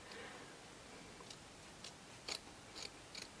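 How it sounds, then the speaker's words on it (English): Small, sharp nail scissors snip through trouser fabric, giving five faint, crisp clicks roughly half a second apart against a quiet room background. "nail scissors are pretty sharp quite often"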